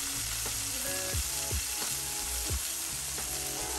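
Burgers topped with two slices of American cheese each sizzle steadily on a hot cooking surface, a continuous loud frying hiss with occasional scraping and tool clinks, close by with no talk.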